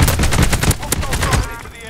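Rapid machine gun fire in Call of Duty Warzone Plunder, a fast rattling burst of evenly spaced shots lasting over a second before trailing off, loud and close, with a voice speaking briefly over it.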